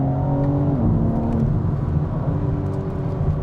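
A 2022 BMW M4 Competition Convertible's engine drones loudly and steadily, with its pitch stepping up during a downshift, a full mechanical roar filling the whole stretch.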